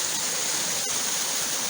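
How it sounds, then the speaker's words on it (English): A double waterfall with a chute in the middle pours in a steady, full rush of falling water, close and continuous with no voices. "Double waterfall there with a chute right in the middle."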